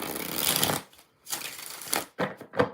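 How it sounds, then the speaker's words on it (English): A deck of tarot cards is shuffled close by in several quick riffling bursts separated by short pauses. "One more shuffle."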